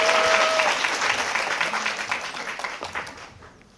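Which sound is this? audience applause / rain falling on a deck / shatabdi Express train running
audience applause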